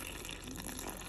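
Warm water pours faintly into a bowl of dried yeast and sugar to start dough for pan-cooked flatbreads, a brief steady gush heard alone.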